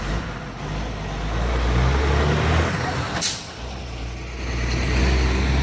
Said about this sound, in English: That's a big truck, man.